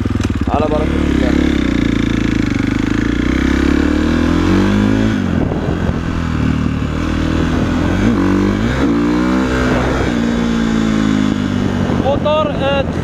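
A KTM 450 SXF dirt bike engine idles loudly up close and is blipped repeatedly, its pitch sweeping up and down in sharp revs against a steady rumble, with a voice talking over it.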